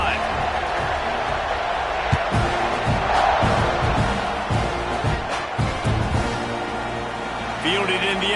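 A packed Texas A&M football stadium crowd roars steadily at kickoff, a dense wall of cheering with scattered shouts and thuds, while a commentator talks over it.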